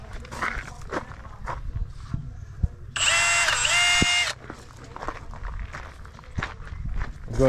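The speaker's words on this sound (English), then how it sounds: "drilling holes" A power drill whirs in one loud burst of over a second while drilling holes on a Nissan NP300 pickup, close by, amid footsteps and scattered workshop knocks.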